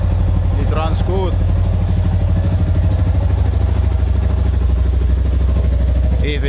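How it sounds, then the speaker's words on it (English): Husqvarna TE610E motorcycle with a Keihin FCR carburetor, rebuilt, running loud and close with a steady, thumping single-cylinder rhythm throughout, a voice briefly audible over it. "Once the bike starts, it runs good."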